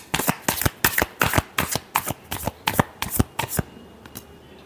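A deck of tarot cards is riffled and bridged repeatedly, about a dozen crisp, close flutters in a steady rhythm, then a brief quiet pause with no talking.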